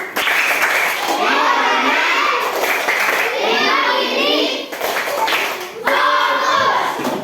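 Schoolchildren in a classroom perform a rhythmic group clapping routine, loud and close, with bursts of clapping broken by short pauses and children's voices chanting and talking throughout.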